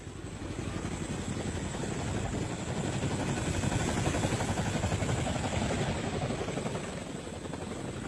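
Helicopters during the 1975 evacuation of Saigon produce a loud, continuous rotor and engine roar with a steady chopping texture that holds without a break, with no voices.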